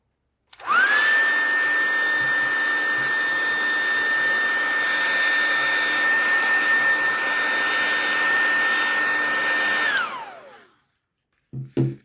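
A hair dryer blows on a paper craft Christmas folio, a loud steady whine that starts abruptly, holds evenly for about nine seconds, then winds down, followed by a couple of soft knocks.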